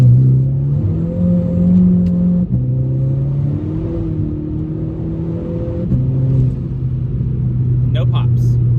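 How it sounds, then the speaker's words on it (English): Volkswagen MK6 GTI engine pulled past quarter throttle, a loud droning tone stepping up through gears with brief dips between shifts, close and continuous, a voice briefly heard near the end. "So we're gonna go more than a quarter throttle and see if it pops."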